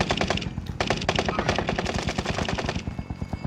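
Rapid automatic gunfire in the video game Warzone, dense close bursts of shots in quick succession over several seconds.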